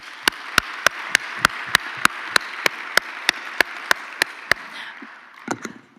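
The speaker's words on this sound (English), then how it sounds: "that deserves another round of applause" A single pair of hands claps about fifteen times in a steady, evenly spaced rhythm at a closing event, the sharp claps fairly near, then a brief cluster of softer claps at the end.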